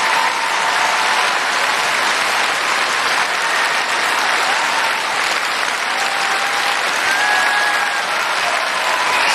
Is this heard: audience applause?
yes